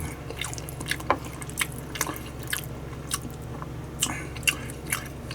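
Close, soft wet chewing of chicken tikka masala curry with small, finely cut chunks, a few faint moist squishes and bites over quiet background hum, no talking.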